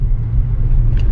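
A car rolls along a road with a steady, loud low rumble of engine and tyres heard from inside the cabin, with no talk.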